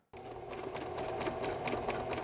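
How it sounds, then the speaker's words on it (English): A sewing machine starts abruptly and runs at a steady, fast hum with rapid needle ticking, close and continuous, while stitching a short kuspuk. "You can tell by the steady hum of her sewing machine."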